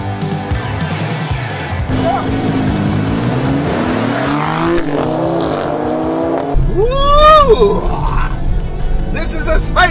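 Alfa Romeo Stelvio and BMW X3 M SUVs accelerating hard in a drag race, engines revving loud and close with rising pitch, and a sharp whine partway through, while people talk over it.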